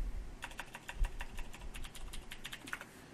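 Rapid keystrokes on a computer keyboard as a password is entered to switch users at a Linux terminal, a steady run of close, crisp clicks with no talk.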